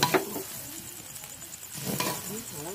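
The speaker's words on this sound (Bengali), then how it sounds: "এবার সসটা দিয়েও আমি ভালোভাবে নাড়াচাড়া করে নেব, যাতে সব দিকে সসটা ভালোভাবে মিশে যায়।" Egg chowmein with soy and tomato sauce being stirred and tossed in a pan, giving scraping, clinking strokes at the start and again near the end, with soft sizzling between.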